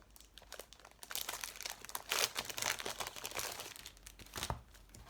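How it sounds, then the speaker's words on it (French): Large plastic shipping pouches crinkling and rustling as they are handled, a soft, close-up series of irregular crackles and crumples with no talking. "le kit de 10 pochettes expédition plastique que j'ai acheté chez B&M"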